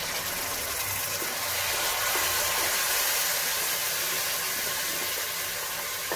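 Tomato purée hits a hot, frying masala paste in a kadhai for a mushroom curry, raising a steady, loud broadband hiss and sizzle that swells slightly and holds.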